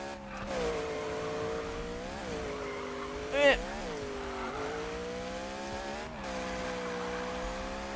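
A drift car's engine holds a steady high drone against the rev limiter in the Need for Speed game, with a brief rev spike partway through and faint tire noise underneath.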